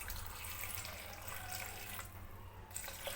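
Water is poured into a mixer grinder jar to grind curry paste for a vegetarian mee curry, making a soft, continuous splashing trickle that stays faint and unbroken, with no talking.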